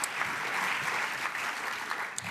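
Steady applause from the audience at an ESTP women's trophies prize-giving ceremony, many hands clapping in a continuous, fairly even wash with no voices over it.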